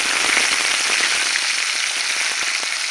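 Vegetables and dried fish fry in hot oil in a clay pot over a clay stove. A loud, dense crackling sizzle pops and spits continuously, close up, with no voices.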